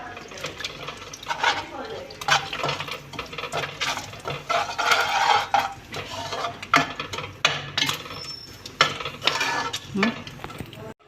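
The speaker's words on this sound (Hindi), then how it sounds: "अब मैं इसको जो हमारी चीनी है वो अब कैरमलाइज्ड हो रही है।" A spoon stirs sugar caramelizing in plenty of ghee for makhandi halwa, producing close, irregular scraping and clinking over a soft sizzle, with someone talking at intervals.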